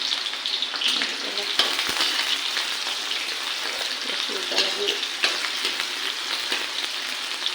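Chopped onions for an Assamese duck curry fry in hot oil, giving a steady close sizzle with faint crackles and occasional light stirring scrapes throughout.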